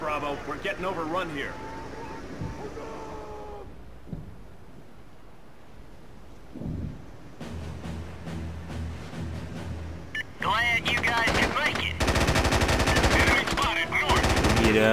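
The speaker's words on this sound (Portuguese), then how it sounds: "Eu atiro com essas armas" Bursts of automatic gunfire from the third-person shooter SOCOM 3: U.S. Navy SEALs, with a quiet stretch midway before dense, loud rapid fire returns toward the end, while someone talks over the game.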